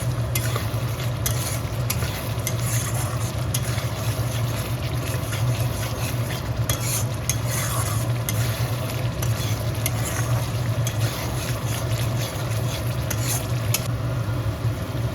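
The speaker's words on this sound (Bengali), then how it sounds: "দিয়ে ভালো করে কষিয়ে নেব" Spices sizzle and fry in oil for a potato and pointed gourd curry, a steady loud hiss with scraping stirs of a spatula against the pan, continuous and close.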